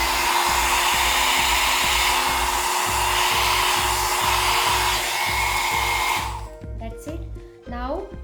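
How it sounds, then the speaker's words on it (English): Hair dryer on low speed blowing over wet acrylic paint, a loud steady whooshing roar with a faint rhythmic flutter, cutting off near the end and leaving brief quiet sounds. "Now I am using my hairdryer on the low speed to cover my colors with the white paint."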